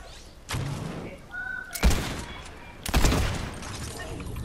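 Gunfire in a Fortnite match: a few sharp bursts and thumps, close and fairly loud, over steady game background noise.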